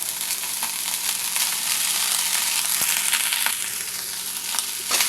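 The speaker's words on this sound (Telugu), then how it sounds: "ఇప్పుడు దీనిలో మనం ముందుగానే వండి పక్కన పెట్టుకున్న రైస్ వేసుకుందాం." Cooked rice tumbles into a hot pan of fried ajwain-leaf seasoning and is stirred, a loud steady sizzle with crunchy scraping and a few sharp clicks of the spoon.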